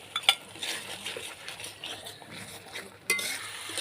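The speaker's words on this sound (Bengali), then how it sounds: "বিরিয়ানির মশলা দিয়ে ফুলকপি সব মশলার সাথে ভালোভাবে কষিয়ে নিচ্ছি" Cauliflower sautéed with biryani spices in a pan, stirred with a utensil: faint, scattered scrapes and a couple of sharp clinks over a low background.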